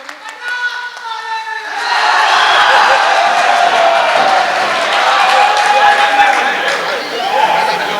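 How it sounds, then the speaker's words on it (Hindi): An audience at a mushaira, a poetry gathering, breaks into dense, sustained applause with cheering that swells after a voice speaks and keeps going steadily. "आप हजरात एक जोरदार तालियों से अयूब वफा साहब का भी इस्तकबाल करें"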